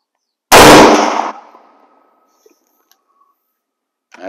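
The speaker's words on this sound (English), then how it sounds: "I'll try one more shot before I change anything around." Single loud gunshot from a US military surplus 03-A3 rifle outdoors, a sharp blast followed by a fading rolling echo, then near silence with faint distant ticks.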